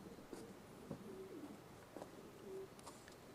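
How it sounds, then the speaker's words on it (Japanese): Soft, distant coos of racing pigeons circling low around their loft repeat a few times over a faint outdoor background hiss. "うちの鳥は低空に降りてきて厩舎の周りを旋回してます"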